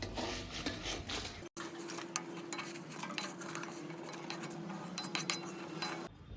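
A utensil scrapes and stirs fried green chillies to one side of a pan, giving a continuous close rasping and rubbing with light clinks, quiet and steady with no speech.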